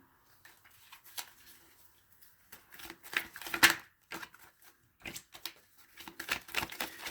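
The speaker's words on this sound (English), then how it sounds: "I'm going to continue shuffling." Quick papery riffles and soft taps of tarot cards being shuffled nearby, coming in short irregular bursts with brief pauses between.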